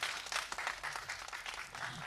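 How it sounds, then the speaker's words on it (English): Applause from the audience at a press conference for a short film, a crowd clapping fairly quietly but steadily, with the rhythm of individual hands swelling and easing in waves. "Can we give sir a big round of applause?"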